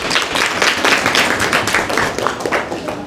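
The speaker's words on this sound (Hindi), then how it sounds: "अक्षरा के लिए ताली।" Children and adults at an NSS camp storytelling session clap for a girl named Akshara, a brisk close round of hand claps lasting a few seconds.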